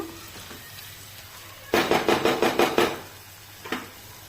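A spoon scrapes through mushroom masala in a pan after the lid is lifted, making a quick run of about seven rhythmic stirring strokes with a light sizzle, followed by one last scrape.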